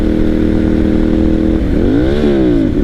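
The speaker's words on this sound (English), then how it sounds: "Sorry, I missed a gear there." A Ducati Monster 796 motorcycle engine droning loudly at cruising speed, then a missed gear shift sends the revs sweeping up and back down, heard close with steady wind noise.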